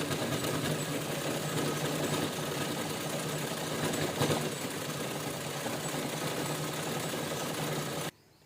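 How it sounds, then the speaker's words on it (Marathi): A sewing machine stitches a fabric organizer for holding plastic carry bags, with a loud, continuous, even rattle running for about eight seconds before stopping abruptly. "पूर्ण राऊंडला शिलाई करून मस्त घेतलेली आहे"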